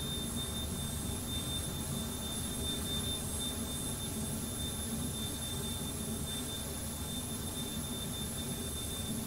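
Jet engines of a Carenado Premier 1 business jet in flight in FSX, a steady broad roar with a thin high whine, constant and unbroken throughout.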